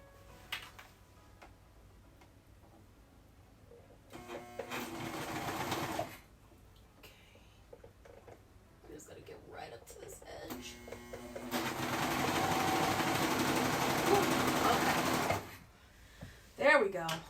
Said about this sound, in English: whenever you're using a serger, you always want to leave a little tail at the end